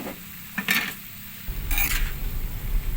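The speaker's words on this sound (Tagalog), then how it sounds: "Haluin lamang para sa ganun lahat po ay kumapit po yung lasa ng toyo at maging pantay po ang kulay." Bamboo shoots simmering in soy sauce in a pot are stirred with a utensil, giving a few sharp scrapes and clinks against the pot over a soft bubbling simmer.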